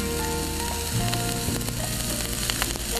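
Onions frying in a pan as soy sauce is poured in, a loud, steady sizzle with crackling pops that runs throughout, close up and without talk.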